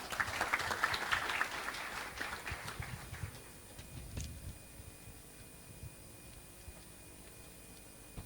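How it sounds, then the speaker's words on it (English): Applause from a seated audience of chartered accountants welcoming a speaker to a felicitation function. Clapping is fairly faint and fills the first three seconds, then fades out into quiet room tone. "Request members to welcome him with a huge applause."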